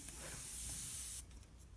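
An airbrush sprays a small amount of white paint out of its cup, giving a steady close hiss for about a second before cutting off into quiet room tone.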